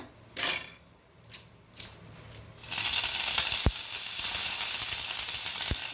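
A few quiet clinks and stirs come first, then curry leaves hit hot oil with dried chillies and a loud, sustained sizzle takes over, broken by a couple of sharp pops.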